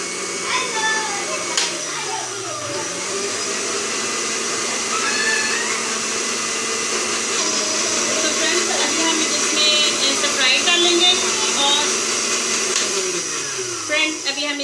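Blender whirring as it mixes a pink lady drink made with Jam-e-Shirin rose syrup, a steady close motor drone running nearly the whole time with faint pitch sweeps as it speeds up and slows down.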